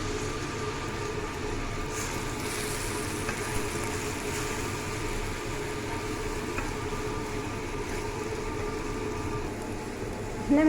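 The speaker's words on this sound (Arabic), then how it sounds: "درت واحد شويه ديال الزبده باش غادي نقلي هاد الكروفيت" Shrimp frying in butter gives off a continuous, even hiss that holds steady and close throughout, with no voices.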